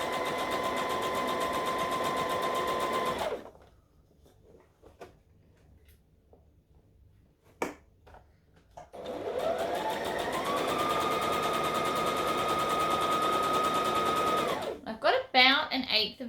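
An electric sewing machine stitches dress fabric in two long runs, a rapid steady whirring hum with a rising pitch at the start of the second burst, separated by a quiet pause with small handling clicks and bumps.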